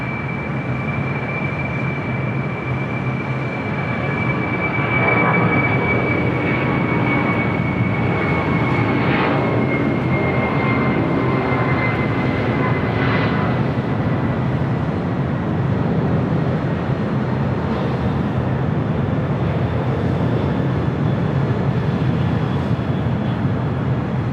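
An Airbus A380 jet takes off at LAX with a steady, loud roar of engines that holds for the whole stretch, with a thin high whine riding on top and no voices.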